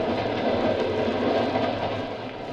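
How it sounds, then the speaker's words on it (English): A train runs at speed on open track at night as a radio drama sound effect, a steady rumbling roar of wheels and cars that fades slightly near the end, with no voices. "We're running at 60 miles an hour on open track in the dead of night."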